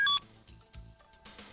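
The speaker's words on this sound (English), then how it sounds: "And when it's almost completely discharged, you'll hear this warning." A cellular phone sounds its low-battery warning: a short, bright electronic tone burst at the start, followed by faint, scattered blips in near silence.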